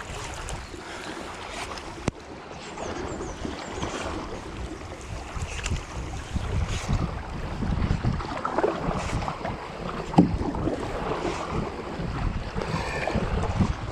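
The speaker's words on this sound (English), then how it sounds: "I suppose because there's never a time you haven't got a paddle in the water" Kayak paddle dipping into calm canal water, soft irregular splashes and drips over light wind noise, close and fairly quiet, with an occasional sharper knock.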